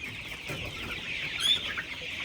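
Meat-breed chickens cluck and chatter on a broiler farm, a dense continuous flock sound close by with overlapping calls and no talk.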